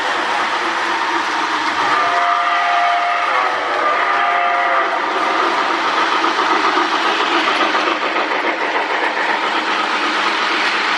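Lionel 736 postwar Berkshire model train locomotive with magne-traction and smoke unit running on track, a loud steady motor whir and rumble with a brief whistle-like tone early on, close and continuous.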